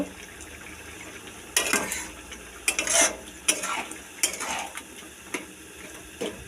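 Spoon stirring banana blossom and prawn curry in a pan, scraping clatters in several separate bursts over a low steady sizzle, close and fairly loud.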